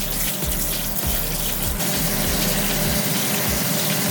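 Tap water gushes steadily while a strainer is rinsed out after straining pig foot souse, a continuous close splashing flow with a faint rhythmic thumping beneath it and no voices.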